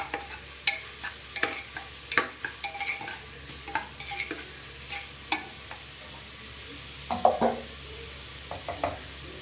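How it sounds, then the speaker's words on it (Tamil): Tomatoes being sautéed in a pan for mushroom biryani, with repeated stirring scrapes and clacks over a low, steady sizzle, close and moderately loud, with no talk. "நல்லா வதங்கணும். நல்லா தக்காளி மசியணும்."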